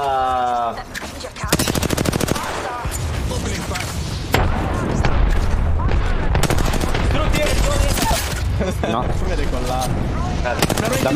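Dense, loud Apex Legends gunfire from rapid automatic bursts and single heavy shots over a constant game soundscape, with a voice talking through part of it.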